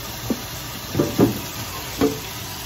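Shrimp carbonara being stirred in a sizzling pan, with a few soft scraping strokes over a steady low fry, close and fairly quiet, no voices.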